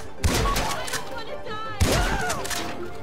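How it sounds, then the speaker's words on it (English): Gunfire in GTA V Online as security cameras are shot during a heist: two loud bursts of rapid shots about a second and a half apart, mixed with shouting voices. "Shoot the cameras!"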